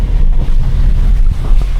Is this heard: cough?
no